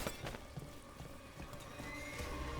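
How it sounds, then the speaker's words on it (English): Horses whinny and snort faintly amid a clatter of hooves and soft ambient noise, slightly distant, in the video game Dragon Age: The Veilguard. "Hey, horses."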